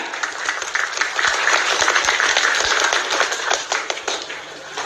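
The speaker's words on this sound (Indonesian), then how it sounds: "Tepuk tangan." Loud, close audience clapping at a religious talk, a dense burst of hand claps with sharp individual slaps standing out, swelling and then thinning toward the end.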